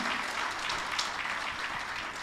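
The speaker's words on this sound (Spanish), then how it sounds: "Yo quiero un aplauso para este profeta, para nuestro pastor y padre espiritual" Church congregation applauding a pastor during a Spanish-language worship service, a steady dense wash of clapping filling the whole stretch at moderate loudness.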